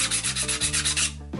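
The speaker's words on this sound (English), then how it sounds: "we're gonna start by sanding very lightly" Light sanding strokes rasp back and forth in a quick, even rhythm, close up, roughing up a prop blaster's surface for super glue, over a faint steady tonal hum.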